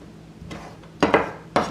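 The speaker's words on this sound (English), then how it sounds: "I'm just chopping up the rest of the vegetables over here that I'm going to use for meal prep." A knife chops vegetables for meal prep in a home kitchen, giving a few sharp, close knocks on a board at an uneven pace. Soft background hush fills the gaps, with no talking.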